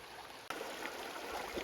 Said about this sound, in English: Water flowing pretty good right there.